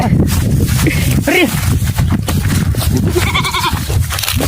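Goats out grazing bleat repeatedly, close and loud, under people talking over them.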